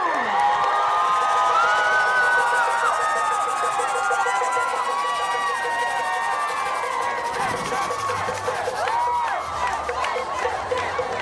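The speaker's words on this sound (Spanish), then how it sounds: "¡Fuerte el aplauso para Dominicana!" Outdoor crowd at a Latin fall fiesta in Toronto's Yonge Dundas Square cheers, whoops and claps for Dominicana, a steady dense roar of voices with children shouting throughout.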